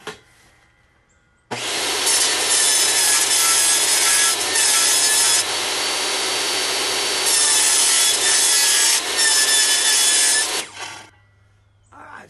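A power saw cuts through a foam-core fiberglass panel for a tiny houseboat build, a loud, sustained rasping whine that starts abruptly and runs for about nine seconds with slight shifts in pitch before cutting off.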